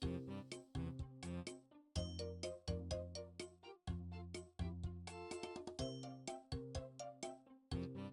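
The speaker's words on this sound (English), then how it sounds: "My phone was ringing." A phone ringtone plays a repeating melodic chime of bright, bell-like notes in steady phrases for several seconds, fairly quiet with no talk over it.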